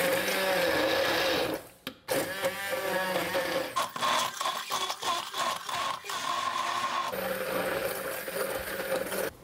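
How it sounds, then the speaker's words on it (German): An immersion blender whirs steadily through whole eggs and natural yogurt in a tall cup, breaking off briefly near two seconds, then pulsing with uneven, gritty surges as it mixes, close and loud with no talking. "Und das zerkleinern wir jetzt mit einem Pürierstab."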